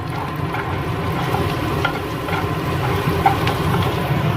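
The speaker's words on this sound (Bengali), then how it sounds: "আমি এখন বানাচ্ছি ভাত ভাজা" Leftover rice fries in a pan, a steady low sizzle with faint stirring scrapes, heard alone without talk.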